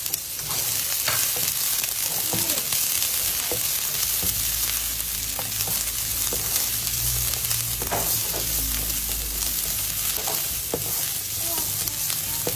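White onion and browned garlic frying in a pan for kimchi rice, a close, steady sizzle with occasional stirring scrapes and clicks, continuous and fairly loud with no talk.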